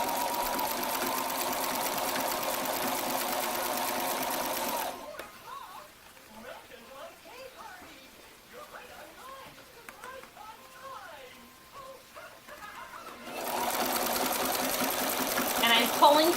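A sewing machine stitches elastic onto a T-shirt in two loud bursts of steady, whirring stitching. Between them is a quieter stretch where a person talks.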